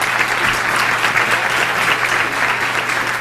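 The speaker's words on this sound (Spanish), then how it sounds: "un fuerte aplauso para nuestro gran Ítalo Estupiñán." A conference audience at UNAM applauds a guest, the Ecuadorian football legend Ítalo Estupiñán, with a loud, dense round of clapping that holds steady throughout.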